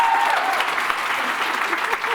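An audience gives a round of applause for a group of girls at an event, with steady clapping throughout and faint voices mixed in underneath.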